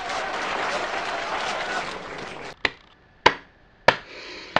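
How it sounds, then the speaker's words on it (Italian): Brief burst of applause for a comedic film, dense clapping for about two and a half seconds, then it cuts out, leaving a few sharp, isolated taps and knocks separated by silence. "92 minuti di applausi."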